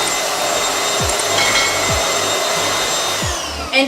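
A Bissell Featherweight stick vacuum runs steadily over carpet, a continuous high-pitched motor whine with broadband airflow hiss, punctuated by a few low thumps as the head is pushed back and forth.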